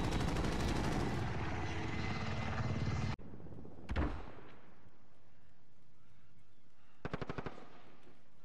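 Helicopter in a video game battle, its dense steady roar buried under sustained heavy machine-gun fire that cuts out abruptly, followed by a single loud blast and a short closing burst of rapid shots.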